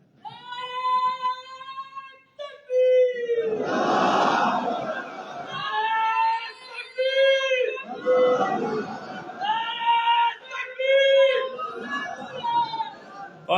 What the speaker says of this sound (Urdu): میں نے کہا نعرہ نہیں لگانا، انہوں نے نعرہ لگایا